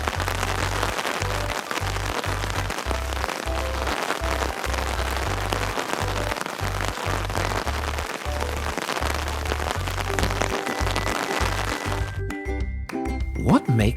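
Steady rain pattering on an umbrella, a dense continuous patter close by that cuts off abruptly near the end.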